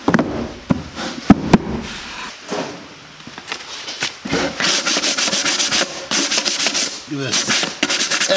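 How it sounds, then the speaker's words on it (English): Sandpaper rubs back and forth over a homemade wooden rabbit nesting box, smoothing rough edges, with scraping strokes that grow louder and more continuous in the second half, plus a few sharp knocks early on. "A little sand so it ain't as rough."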